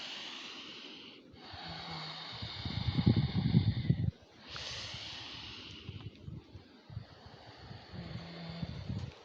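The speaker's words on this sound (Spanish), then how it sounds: "Está soplando un viento hermoso, el viento que limpia, que purifica." Wind blowing outdoors during a relaxing movement class: a soft rushing, gusting texture that swells and fades, mixed with close breathy exhalations and low rumbles from the microphone.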